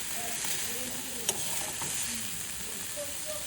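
Spice masala sautéing in a pan, a steady broad sizzle throughout with faint stirring scrapes and one sharp tap near the middle, no voices.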